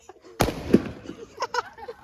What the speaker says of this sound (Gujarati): તો ભાઈ ફટાકડા ને એવું બધું ફોડી લીધું છે